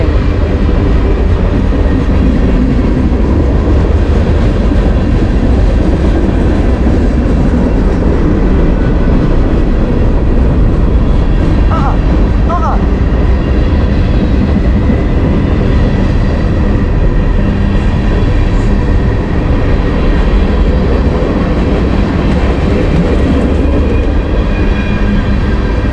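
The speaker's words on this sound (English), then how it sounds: "westbound train." A westbound train passes close by in Lakewood, Ohio, with a loud, continuous rumble and clatter of rail cars that lasts throughout. A brief horn-like tone sounds near the middle.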